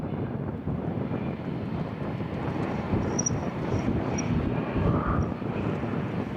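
A propeller aircraft at Fuerteventura Airport makes a steady, broad engine roar that holds at moderate level throughout, with some wind noise on the microphone and no talking.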